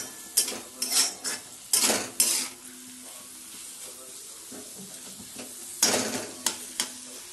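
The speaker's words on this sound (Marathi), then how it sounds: "उभे कांदे चिरून घ्यायचे आणि त्यांना चांगलं लाल होऊ द्यायचं तेलामध्ये" Sliced onions fry in oil in a pan under a constant sizzle, stirred with a metal utensil in several bursts of clattering scrapes and knocks against the pan, with a voice speaking softly in between.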